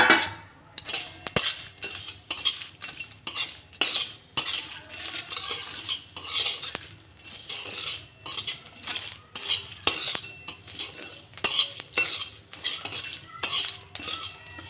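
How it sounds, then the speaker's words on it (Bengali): A spoon stirs spices frying together in a pan while making kul (jujube) pickle, with repeated scraping, clinking strokes of utensil on metal in an uneven rhythm over a faint sizzle, close and fairly loud, with no talking. "এবারে এই সমস্ত মশলাগুলো একসাথে মিশিয়ে ভেজে নিচ্ছি ভালো করে"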